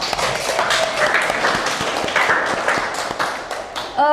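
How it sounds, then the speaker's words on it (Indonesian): A class of students applauds during a mathematics lesson, scattered claps forming a moderate burst of clapping that carries on steadily for a few seconds before fading at the end. "Tepuk tangan untuk kalian semua."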